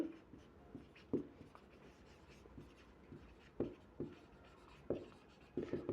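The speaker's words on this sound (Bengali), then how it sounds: "আমরা লিখে নেই" Pen on paper, writing out an accounting formula by hand: soft close scratching strokes with scattered sharper taps, steady and quiet with no talking.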